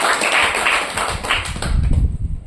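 An audience claps loudly, a dense burst of many hands in an indoor gathering that fades out after a couple of seconds.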